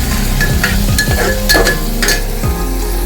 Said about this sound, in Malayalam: അത് നല്ലതായിട്ട് ഇളക്കി പിടിപ്പിക്കണേ. എണ്ണയൊക്കെ നല്ല ഒരു രീതിയിൽ തന്നെ അത് ഇളക്കി കൊടുക്കണം.